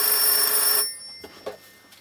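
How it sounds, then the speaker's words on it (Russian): A telephone rings with an incoming call, a loud electronic tone that cuts off after under a second, followed by a few faint clicks and handling noises. "сестра старшая в общине звонит, Татьяна Кузьминична-Капустина"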